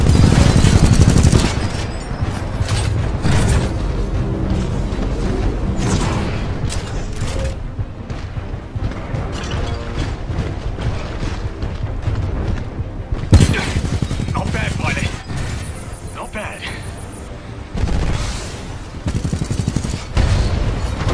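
Sustained gunfire in Titanfall 2, with dense bursts of automatic fire and heavy booms under game music and in-game voices.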